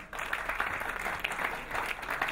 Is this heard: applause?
yes